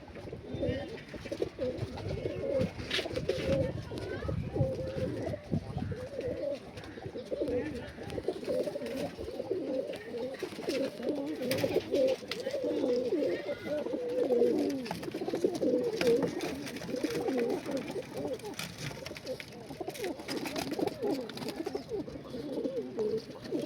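Pigeons kept in a loft, hajarwala birds among them, coo steadily in overlapping low rolling calls from start to end, while someone talks intermittently over the flock.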